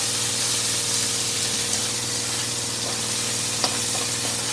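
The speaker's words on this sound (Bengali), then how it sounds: "তো আগে আমি পেঁয়াজটা এরকম করে একটু ভেজে নেব।" Onion sizzles steadily in a hot pan with ginger and garlic added, a continuous close frying hiss with faint clicks and no voices.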